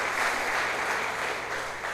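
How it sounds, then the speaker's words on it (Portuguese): A church congregation breaks into steady, dense applause that fills the space, loud and continuous with no speech over it. "dê uma salva de palmas a Jesus"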